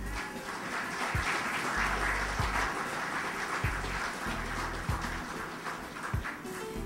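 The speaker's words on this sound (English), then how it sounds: "Mr. Chinkitt, we applaud your work." Audience applause at an 80th birthday celebration honouring a community figure, a steady wash of clapping from a crowd filling the room throughout, even and sustained without a break.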